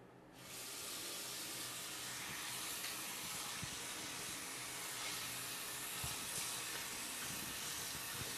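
A tap runs as soapy hands are rinsed under it. The water starts with a rush, then keeps up a steady, broadband hiss with small splashing shifts, close by, and no one speaks.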